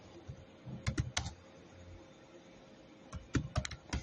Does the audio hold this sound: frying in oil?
no